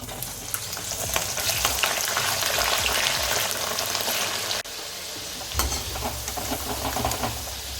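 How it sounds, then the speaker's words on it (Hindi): Potatoes fry in hot oil in a pan for a vegetable pulao, giving a steady, loud, dense sizzle and crackle that runs through the whole stretch with a brief dip partway, and no voices over it. "और अब हम फ्राई करेंगे पोटैटो या आलू।"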